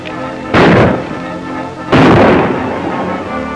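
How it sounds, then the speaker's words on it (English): Two loud, close gunshots ring out about a second and a half apart in a 1944 western, each a sharp crack with a long echoing tail. "You and Charlie go find out who's doing that shooting and stop him."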